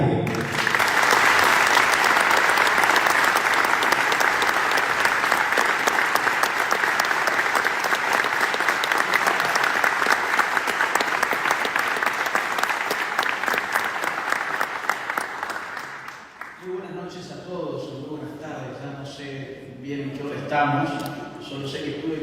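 An audience claps at length in the Argentine congress, a dense, steady roar of hands that fades after about fifteen seconds. A voice then begins speaking over the room.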